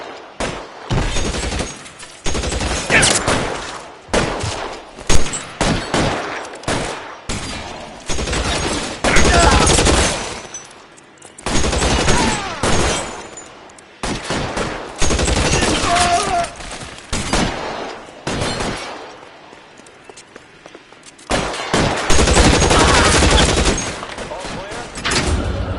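Bursts of gunfire in the 1940s detective game L.A. Noire, with loud volleys of shots separated by short pauses and game dialogue spoken between them.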